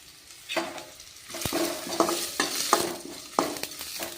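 Curry leaves crackle and sizzle in hot oil over chopped onions, with sharp pops and spatters in an uneven rhythm and the scrape of stirring, close and fairly loud with no voices.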